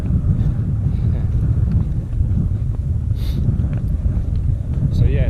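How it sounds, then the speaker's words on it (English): Cold wind buffets a microphone outdoors in northern Scotland, a loud, continuous low rumble with gusty swells that carries on unbroken throughout. "That wind is whipping across."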